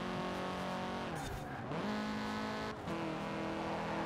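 An Audi TTS in the racing game Forza Horizon 4 revs and skids, engine tone dipping and surging with tire squeal through two sharp slides, no voices.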